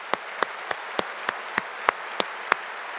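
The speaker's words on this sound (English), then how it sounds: "How about a big round of applause for them?" Evenly spaced hand claps, about three per second, sound fairly faint and thin against a quiet background, with no voices.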